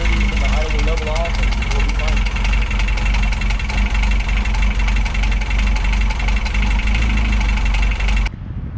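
A 1995 Honda Odyssey with a swapped H22 engine with reversed head idles loudly and steadily up close, a continuous mechanical rumble with a faint knocking texture, cutting off abruptly near the end.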